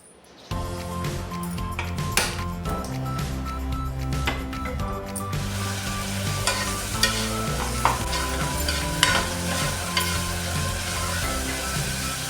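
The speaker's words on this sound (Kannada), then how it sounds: "ಈರುಳ್ಳಿ ಹಾಕಿ ಒಗ್ಗರಣೆ ಮಾಡ್ಕೊಂಡಿದ್ದೀನಿ." Mustard seeds, cumin and chopped onion frying and sizzling in hot oil for a tempering, with a spoon stirring steadily in the pan; a continuous, close sizzle with clicks and scrapes, no talking.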